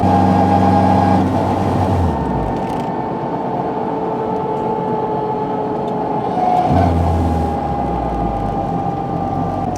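A Honda Civic Type R FK8 with a new throttle body idles with a steady hum. The low engine rumble cuts out after about two seconds and a rough rumble returns near the end.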